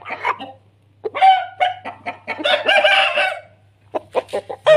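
An Aseel rooster of the Black Lasani type, kept in Mianwali, crows and clucks close by in a series of short bursts with pauses between, outdoors in the sun.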